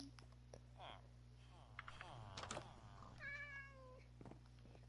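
A Minecraft cat meows once with a short, rising-and-falling in-game call, faint beneath players talking and low background game sounds.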